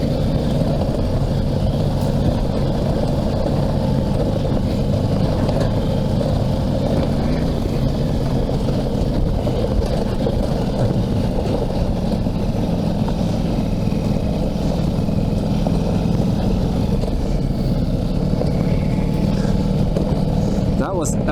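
Ducati Multistrada V4S motorcycle on an off-road test ride, its engine droning steadily throughout with a constant low hum and wind-like roar, while a rider talks over it at length.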